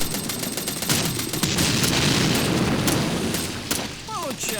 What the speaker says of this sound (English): There we go. We got the grenade out.